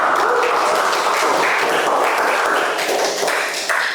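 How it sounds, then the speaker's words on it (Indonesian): Students in a classroom applaud steadily, a dense wash of clapping that holds loud and even throughout. "Boleh tepuk tangan untuk kalian semuanya."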